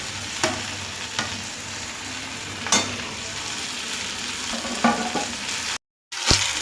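Beans and carrots stir-fried in a pan with cauliflower and potato, a steady sizzle broken by several sharp spatula scrapes and knocks at irregular intervals, close and clear, with a brief dropout near the end.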